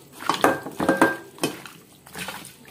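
Chicken pieces are mixed with turmeric and chili powder in a pot, giving a few quick metallic clinks and scrapes of a utensil against the vessel with faint wet sounds.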